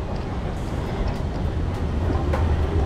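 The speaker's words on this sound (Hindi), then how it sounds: "अरे ट्रेन की आवाज़ आई।" A metro train rumbles steadily at a station, a continuous low roar that swells slightly toward the end with faint squeals and clanks over it, nearby and fairly loud.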